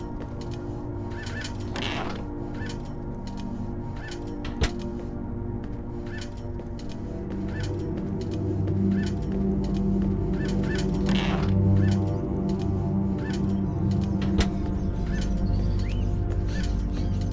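Birds squawk and honk in the video game Indigo Prophecy, a few harsh calls rising over steady mechanical ticking and a low ambient hum.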